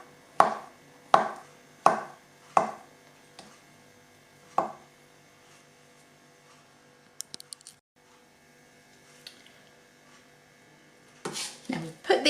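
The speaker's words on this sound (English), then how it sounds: "now we need to chop it up finely" A knife chops finely through a ripe peeled avocado on a board, with five crisp, evenly spaced cuts close up, then a quiet stretch with a few small clicks, and a quick flurry of chopping at the end.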